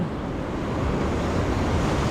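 Floodwater from a swollen mountain river rushes past a wrecked bridge as a constant, loud, broadband roar without pauses, with no speech.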